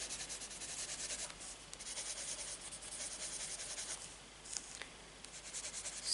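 Soft, steady scratchy rubbing of coloured pencil on paper, close and quiet, with continuous strokes and brief pauses.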